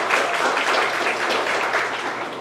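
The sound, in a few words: audience clapping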